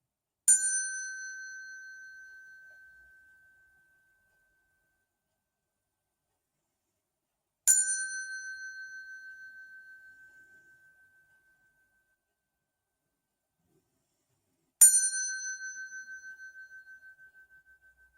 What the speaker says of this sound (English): I like to clean it with sound. so you can hear my bell.